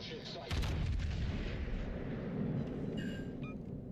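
A ship's big guns fire in a naval battle video game, a heavy booming salvo with a long rumbling tail, followed by fainter metallic game effects and talk over the top.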